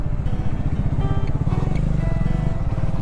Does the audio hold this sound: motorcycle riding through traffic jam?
yes